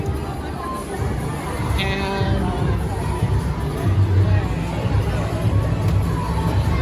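A crowd fills a new light rail station on its opening day, a steady hubbub of many overlapping voices and movement filling the space at close range with no single voice standing out.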